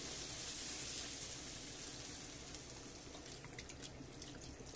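Half a liter of broth pouring into a chicken and red bean stew, a steady, soft liquid splash and trickle that fades slightly, with no talking.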